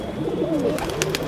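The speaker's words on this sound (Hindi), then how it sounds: "ये कबूतर को खोलना मैं भूल गया था, तो ये लोग बेचारे कब से परेशान हो रहे हैं बाहर आने के लिए" Domestic pigeons coo softly in a coop as they are let out, with a steady murmur of low, rolling calls and faint rustling close by.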